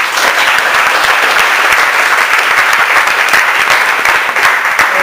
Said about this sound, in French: Ok, super, on peut l'applaudir.